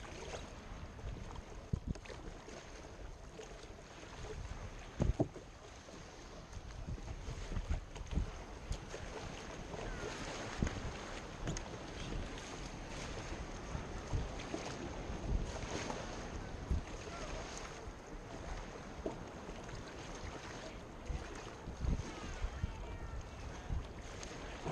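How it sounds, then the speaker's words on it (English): Surf and wind wash around a kayak heading back to shore. The gusty, uneven rush continues throughout with sporadic splashes and thumps, all faint and muffled, as if heard through a wind-buffeted microphone. "I'm in the surf, got everything tied down on my kayak."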